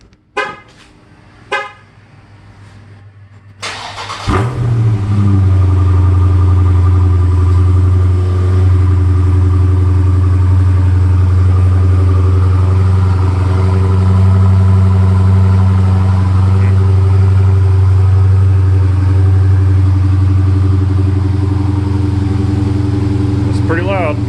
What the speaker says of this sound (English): 2017 Charger Scat Pack, completely stock exhaust, no modifications whatsoever